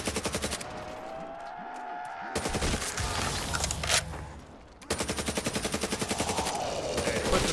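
Gunfire in Call of Duty: Black Ops III Zombies on the Kino map, a low-recoil weapon: rapid automatic bursts with evenly spaced shots, broken by a pause with game effects before another long, even burst.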